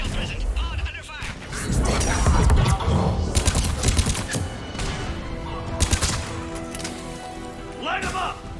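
Rapid gunfire and heavy explosive thumps from a Mass Effect 3 battle crackle in dense bursts, mixed with game music and shouted voices.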